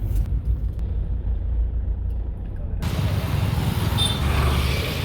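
Car driving in traffic, heard from inside as a constant low engine and road rumble with a wider, noisier wash of passing traffic in the second half.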